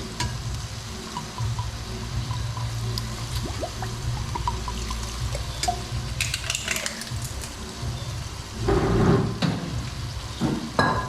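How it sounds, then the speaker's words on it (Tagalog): Ingredients sautéing in fish sauce (patis) for ginataang gabi with suso, a steady close sizzle with occasional stirring clatter, growing louder and busier toward the end. "So, igigisa lang natin sa patis to."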